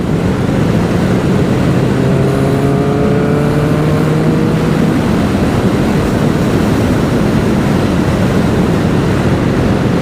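Kawasaki Ninja ZX11 motorcycle engine revving hard while riding, loud and close, rising in pitch over the first few seconds then settling into a steady roar mixed with heavy wind rush.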